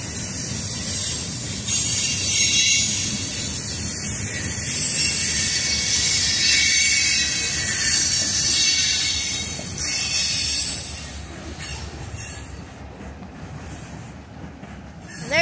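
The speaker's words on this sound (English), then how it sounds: "There goes the train into town." A train rolls past heading into town near Folkston, its wheels squealing and rails clattering loudly for several seconds before the rumble fades toward the end.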